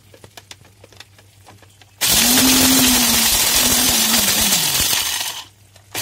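A kitchen mixer grinder whirs loudly for about three seconds as it pulverises whole spices together, its motor pitch dipping slightly under load before cutting off, preceded by light clinks of spices being added.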